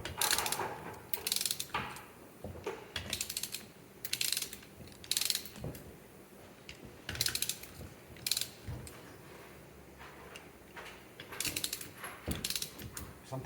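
A torque wrench ratchets on bolts during a Polaris MOD XLT triple engine build, worked in a crisscross pattern as a series of close, crisp ratcheting bursts separated by short pauses.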